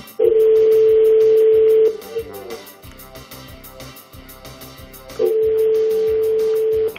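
A telephone call rings out with long steady tones, one of about two seconds, a pause with faint background sound, then the tone returns, clear and loud.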